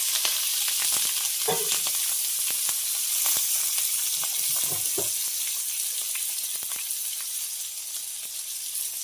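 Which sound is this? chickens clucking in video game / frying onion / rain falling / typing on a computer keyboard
frying onion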